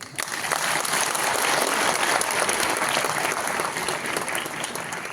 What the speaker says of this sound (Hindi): मुझे लगता है नीलोफर खान साहिबा इससे बहुत ज्यादा तालियां डिजर्व करते हैं।